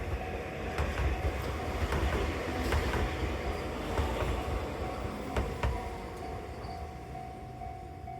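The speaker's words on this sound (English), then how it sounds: "They then walked 1 station down the line to film this train leaving Hase Station." A train pulls away from Hase Station near Enoshima, Japan, with a soft rumble and rhythmic clicks of wheels over rail joints, heard from nearby at moderate level and easing off as it departs.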